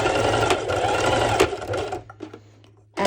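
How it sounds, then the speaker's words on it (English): Sewing machine running a few stitches back and forth over elastic, with the stitch length set to maximum for pole dance wear: a loud, steady, close mechanical whirr that stops briefly and then restarts at the end. "I'm bringing my elastic under. Gonna do a few stitches back and forth."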